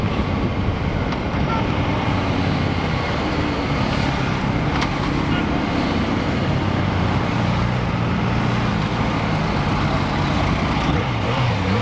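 A Yamaha XJ6 motorcycle engine-braking on the road, with a steady, loud, broadband roar and wind rush running unbroken throughout and no speech.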